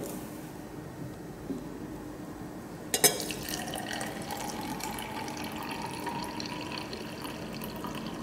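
About 82 millilitres of soap solution is poured into a test cup; after quiet background a sudden splash starts a steady running, trickling pour that continues to the end.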